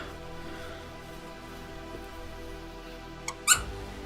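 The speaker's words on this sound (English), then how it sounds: "so that when you squeeze it, it squeaks" A squeaker pushed into the stuffing of a fluffy plush toy gives two short, sharp squeaks near the end, close and clear over a low steady background.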